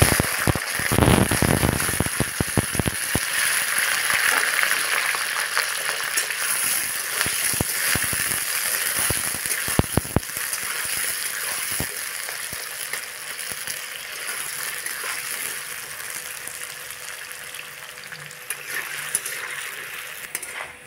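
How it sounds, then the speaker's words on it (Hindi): Potatoes frying in a pan for a gobhi aloo matar sabzi, with a steady close sizzle running throughout and frequent clinks and scrapes of a spoon stirring against the pan. "अब इसमें हम आलू डाल के फ्राई कर लेंगे।"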